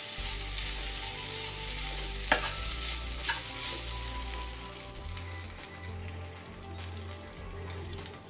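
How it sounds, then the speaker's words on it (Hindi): Poha being stirred in a pan gives a soft, steady sizzle with a low hum beneath, broken by one sharp scrape and a lighter clink, faint and close. "अब हम इसे अच्छी तरह से चला लेंगे।"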